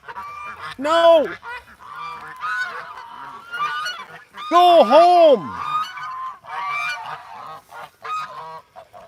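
Geese honk loudly at close range in two strong bursts, with scattered calls continuing throughout and a person speaking briefly over them.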